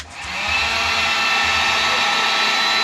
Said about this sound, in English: I'll use the heat gun to test the system